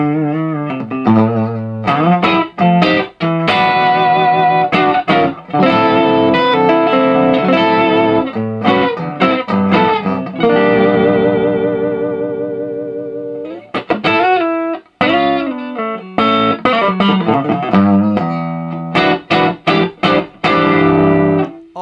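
Distorted electric guitar played through a Blades Custom Firebolt 50 amp, chords and riffs with sustained gritty notes and short pauses, loud and close, no talking.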